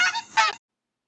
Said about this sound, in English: a scientist would want to observe what's actually going on when a goose is honking